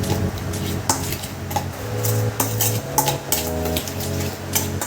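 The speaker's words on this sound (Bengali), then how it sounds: "এটা ভালোভাবে মিশিয়ে নিতে হবে" Sugar being stirred into a homemade pudding mixture, a spoon scraping and clinking against the bowl in a steady, fairly loud rhythm with occasional sharper knocks.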